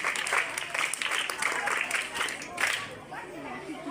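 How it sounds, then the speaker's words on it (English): Student audience applauds at a school talk, a dense patter of clapping mixed with crowd chatter and voices that swells and fades over a few seconds. "Clap for yourselves."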